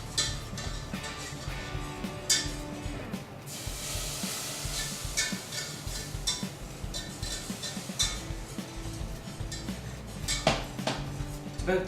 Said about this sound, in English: start adding in your milk. Whisk it in a little bit at a time.